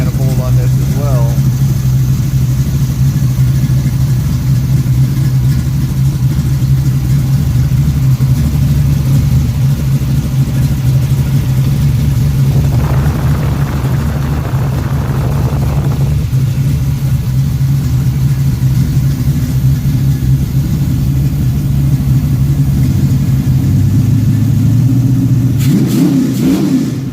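A 1967 Pontiac GTO 400 V8 with a factory-correct intake manifold runs loud and close, holding a steady heavy drone for most of the time before its pitch shifts near the end.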